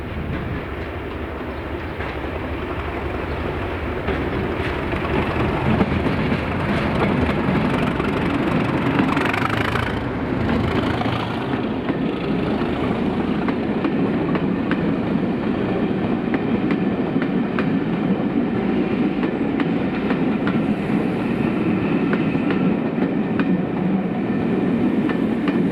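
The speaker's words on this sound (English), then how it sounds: "this is the arrival into Crewe and Largs station" A train pulls into Largs station in Scotland, carriages rumbling and clacking steadily close by, with an engine drone continuing as it slows, and no voices.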